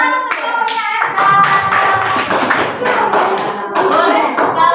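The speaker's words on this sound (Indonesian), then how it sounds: "Tepuk tangan untuk kelompoknya Eza" A classroom group claps for a student team after its recycled-craft project is judged neatest. The clapping is loud and close, comes in uneven bursts, and has voices mixed in.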